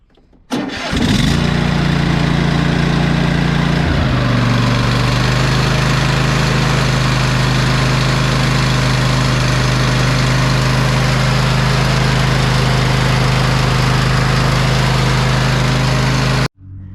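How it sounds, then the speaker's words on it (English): A Cub Cadet lawn tractor engine cranks and catches after an oil change, then settles into a steady, loud idle that runs evenly before cutting off abruptly near the end. "run the tractor for about 30 seconds, let the oil circulate through the engine and the oil filter"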